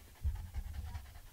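A dog pants at a dog show in Santa Lucía, Gran Canaria, with quick, rhythmic, breathy huffs close by and no talking.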